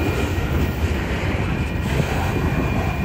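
A Union Pacific freight train of boxcars rolls past close by, giving a steady, loud, broadband rumble and rattle of wheels on rail that holds even throughout, with no voices.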